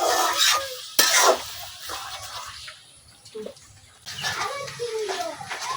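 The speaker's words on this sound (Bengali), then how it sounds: "এই দেখেন এখন আমি এভাবে নাড়াচাড়া করে রান্না করে নেব" A pangas fish head and taro stem curry is stirred in a pot, giving a bubbling, wet churn with scraping and clinks from the utensil. It swells and fades in waves, with a voice talking at times.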